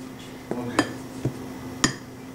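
A utensil scraping and clinking against a bowl while flour, baking soda and baking powder are mixed for a banana cake, with a few distinct taps over a steady low hum, close and fairly soft.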